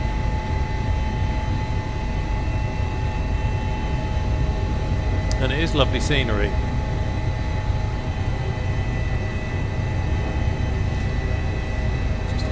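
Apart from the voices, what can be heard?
Airbus H145 helicopter engine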